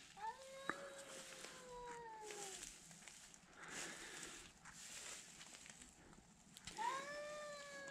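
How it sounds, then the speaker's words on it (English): Cats yowl and caterwaul in a barn setting, drawn-out rising and falling wails at the start and again near the end, moderately close, with scuffling noise between the cries. "We got us a cat fight about to happen."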